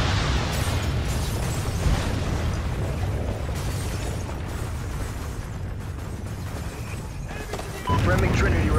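Rocket blasts from a Trinity rocket killstreak in the shooter game Call of Duty: Ghosts, a dense, continuous rumble of loud explosions with heavy low-end booms throughout and a sharper burst near the end.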